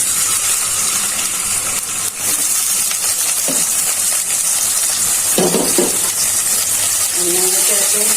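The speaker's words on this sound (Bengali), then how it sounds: "তেলটা গরম হয়ে গেছে, পেঁয়াজ কুচিগুলো দিয়ে দিচ্ছি।" Chopped onions frying in hot oil in a kadai, a loud continuous bright sizzle throughout, broken by a few stirring scrapes and clinks from the spatula.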